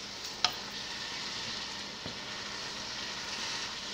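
Tomato paste frying with browned onion, garlic and ginger masala in a pan makes a soft, steady sizzle, with a brief stirring clatter near the start and another faint scrape later.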